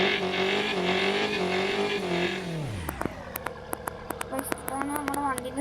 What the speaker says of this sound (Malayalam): ഇതാണ് നമ്മുടെ വണ്ടീൻ്റെ സൗണ്ട്